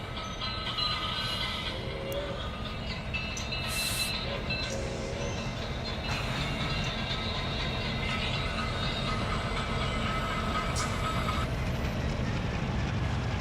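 Train running in the Run 8 train simulator while switching in the desert, a steady low rumbling drone with faint repetitive clacking and occasional hisses, continuous throughout.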